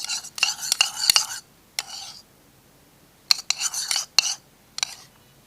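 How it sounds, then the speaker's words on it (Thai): Homemade slime made with laundry detergent powder being stirred in a bowl, giving bursts of wet, squelchy scraping in short uneven spells with quiet pauses between them. "ใส่ไปเลย แล้วก็คน ทีละนิดอะ"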